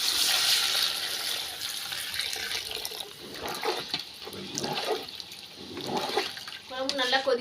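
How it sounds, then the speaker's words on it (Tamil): Hot water pours steadily into a pot of chicken curry, a continuous splashing rush with some faint speech mixed in near the end. "அந்த வெந்நீரை தான் சேர்க்க போகிறேன்"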